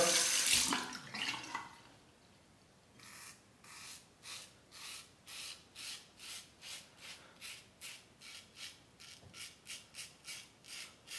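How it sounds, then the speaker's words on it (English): A brief gush of tap water at the start as a razor is rinsed, then a long series of rhythmic rasping shaving strokes with a Parker 22R razor, close and fairly quiet, repeating about once per second. "Temper the razor under the hot or cold water"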